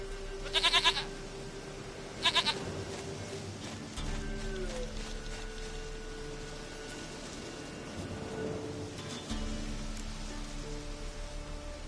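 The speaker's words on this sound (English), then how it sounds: "Goat of mine, dearest, sweetest goat." Goat in The Witcher 3 video game bleating faintly twice early on, short quavering calls over a quiet game ambience with low hum and soft background music.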